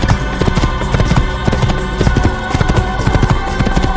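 Horse hooves clip-clop in a steady, brisk rhythm in the video game Assassin's Creed, loud and close over a soft, continuous game soundtrack.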